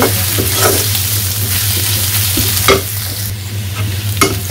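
Garlic sizzles in hot oil with a steady crackle, broken by occasional scraping stirs of a utensil against the pan.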